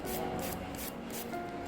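A file levels the surface of an acrylic nail extension with quick, close rasping strokes repeated in a short rhythmic series. Nobody speaks.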